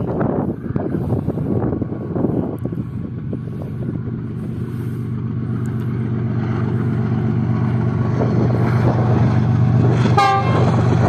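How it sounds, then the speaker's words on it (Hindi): Freight coal train passing close on the track through a desert setting, a loud continuous rumble with rolling wheel clatter and wind buffeting, and a horn sounding near the end. "और अब मेरे सामने से अब ट्रैक पर एक ट्रेन आ रही है, तो ज़रूर ये फ्रेट ट्रेन ही होगी"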